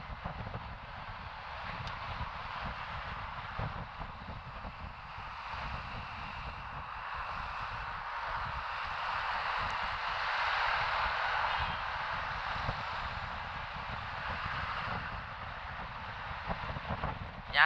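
A Honda ADV 160 motorcycle being ridden gives a continuous engine drone mixed with heavy wind rush across the microphone, steady for the whole stretch and rising slightly midway.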